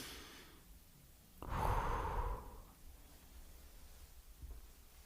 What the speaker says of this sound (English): let's just all breathe together